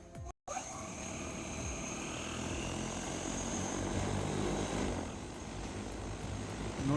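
A 300 kg cargo drone carrying an 80 kg load on its first flight at Wari La near Leh drones with a loud, steady propeller roar, continuous and close, with no talking.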